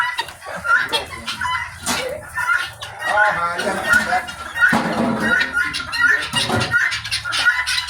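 Repeated sharp, squawking bird calls, like guinea hens, sound in a steady rhythm, mixed with voices talking and laughing nearby.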